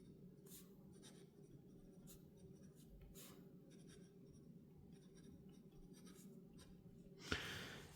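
A Lamy Studio fountain pen with a 14k gold extra fine nib scratches faintly across paper in short, close strokes, ending with a slight tap.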